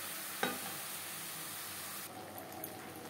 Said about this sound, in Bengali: হাই টু মিডিয়াম ফ্লেমে 5-6 মিনিট মাংস বেশ ভালো করে কষিয়ে নেব